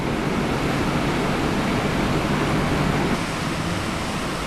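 A powerful sea wave churns behind a motorboat, a loud, continuous rushing wash of water that stays steady throughout with no pauses or voices.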